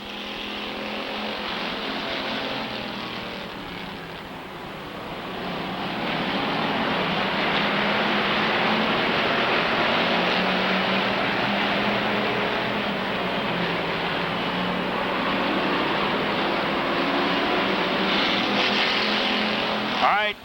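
Race cars circling the Rockford Speedway oval during a May 2000 event, a loud continuous engine roar that swells as cars pass, with a track announcer talking over it throughout.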